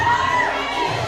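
A wrestling crowd roars in steady support of a hometown wrestler, a dense continuous wall of cheering and shouting voices with some high-pitched yells, loud and sustained throughout.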